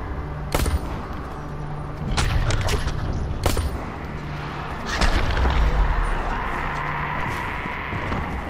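An anti-gadoid gun fires a string of sharp, loud bangs at irregular intervals. Each report booms over a steady rumbling background.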